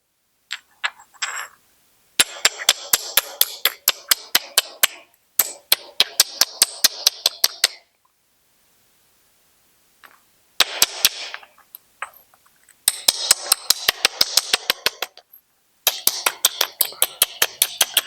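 Flint is knapped against an anvil stone while shaping a thrusting spear point. Sharp, close clicks come in rapid bursts of strikes, with quiet gaps between the runs.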